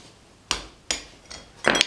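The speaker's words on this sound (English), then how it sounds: "You gonna watch me banging that hammer all day long." Hammer striking while working on a sawdust drag, four sharp metallic bangs in quick uneven succession, close and loud, the last hit doubled.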